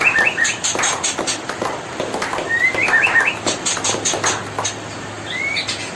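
Baby birds about twelve days old, three of them, chirp from inside a nest box in short bursts of thin high calls, fairly close, with repeated sharp clicks and a steady background hiss.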